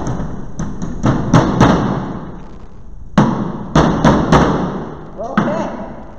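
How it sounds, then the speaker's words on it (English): Sharp hammer blows drive a nail in uneven bursts, several quick thuds then pauses, close and fairly loud. "You could also use a hammer"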